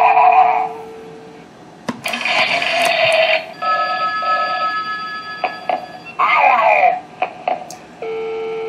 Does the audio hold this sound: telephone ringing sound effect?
yes